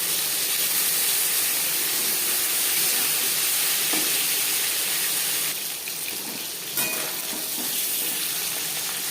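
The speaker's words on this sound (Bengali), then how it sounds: "যেহেতু আমার কড়াইতে বড় তাই আমি একবারেই ভেজে নিচ্ছি" Pieces of katla fish frying together in a large wok, giving a continuous close sizzle and crackle with a slight shift in tone partway through, no talking.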